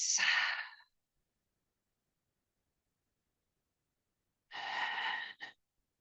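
Two full breaths in a quiet room during a Pilates-ball myofascial release session: a breathy inhale-exhale at the start, silence, then a second audible breath near the end, both soft and close.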